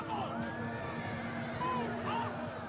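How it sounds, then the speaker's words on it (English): Horses whinnying and hooves clattering as horse skirmishers charge in a Total War: Rome II battle, with repeated neighs over a busy game soundscape and a faint voice talking underneath. "So he's going to charge in with these horse skirmishers."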